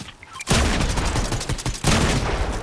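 Two loud bursts of rapid gunfire in the video game Fortnite, each a dense crackling volley, heard close and alone with no talk.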